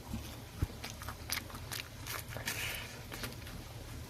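Crisp bites and crunchy chewing of hot crispy fried eggplant, close and fairly quiet, with several crackly crunches spread across the moment and no talking.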